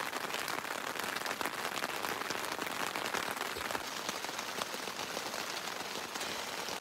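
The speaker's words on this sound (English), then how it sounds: "It's now raining. It's just dripping really lightly." Light rain falls steadily onto a lake and its shore during a storm on a wilderness canoe route, a dense, even patter of small drops that runs the whole time with no voices.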